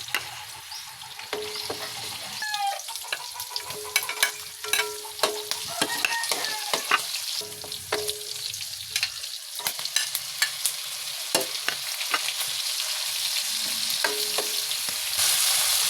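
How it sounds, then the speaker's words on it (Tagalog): Garlic, onion and tomato sauté in a pan for adobong sitaw, with a soft frying sizzle under repeated sharp scrapes and taps of a spatula stirring, close and uneven in rhythm. "Ngayon naman, nagigisa na ako ng bawang, sibuyas,"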